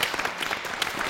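An audience applauding a singer's introduction at a show, a brief burst of dense, moderately loud clapping.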